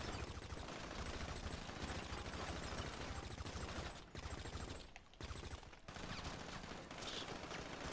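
Dense, continuous gunfire in the video game GTA 5, rapid automatic bursts firing almost nonstop with brief pauses near the end, loud and close throughout.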